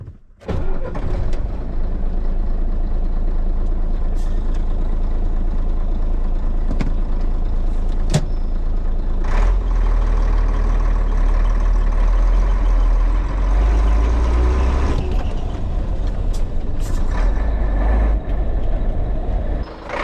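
A classic Scania 93M truck's engine starts up, then settles into a loud, steady diesel rumble that swells with deeper pulses as it runs, heard close and continuous with no talking.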